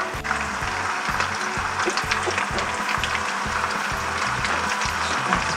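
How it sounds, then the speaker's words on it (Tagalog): Meatballs frying in hot oil in a pan (kawali), a steady, dense sizzle and crackle that runs loud and close for the whole stretch. "po na mainit na ang ating mantika ay pwede na nating iprito itong ating mga nabilog na meatballs"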